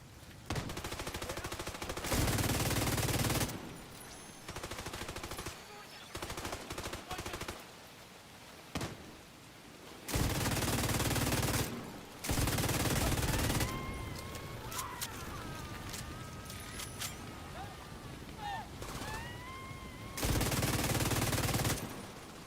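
A character firing a gun in a video game, repeated loud bursts of automatic gunfire in several separate volleys, with quieter game sounds and faint tones between the bursts.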